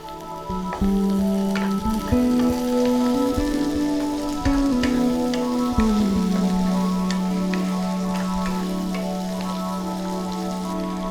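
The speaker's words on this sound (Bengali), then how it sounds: "পেঁয়াজ কুচি রসুন কুচি হালকা ভাজা হয়ে যাওয়ার পরে টমেটো কুচিটা দিয়ে দিচ্ছি।" Chopped tomato sizzles steadily in a pan with lightly fried onion and garlic, a close, dense crackle that stays even throughout, with a few stirring knocks and clatters early on and a low background hum.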